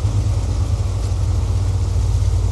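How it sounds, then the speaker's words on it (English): A heavily loaded truck in SnowRunner labors uphill, its engine giving a loud, steady low rumble that holds even and unbroken throughout, with no voices over it. "she's making it up the hill without a problem, so there's plenty of torque for the load we got on it"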